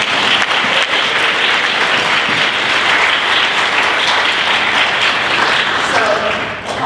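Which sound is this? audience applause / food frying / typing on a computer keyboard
audience applause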